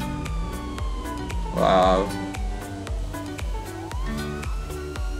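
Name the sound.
police siren in a video game mod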